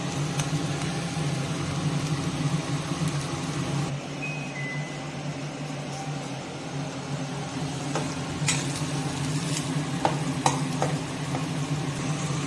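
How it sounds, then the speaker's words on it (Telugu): Egg curry bubbles and sizzles gently in a pan, a steady close crackling simmer with a few faint clicks and taps on top, and no talk. "so 5 minutes ఉడకనివ్వాలండి"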